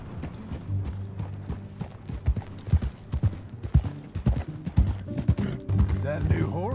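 Horse hooves clip-clop in a steady walking rhythm while riding in Red Dead Redemption 2, close and distinct, with occasional snorts and light tack noise underneath.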